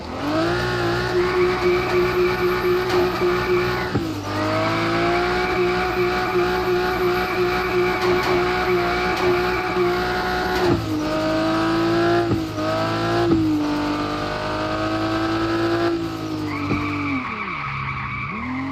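A car fitted with a drift kit in the mobile game Car For Sale Simulator 2023 skids through long, loud tire squeals over a droning, revving engine, easing off and then sliding again in several sustained runs.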